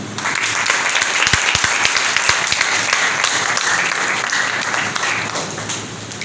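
A church congregation on Palm Sunday gives loud, sustained applause, a dense wash of many hands clapping steadily for several seconds, filling the hall with little break.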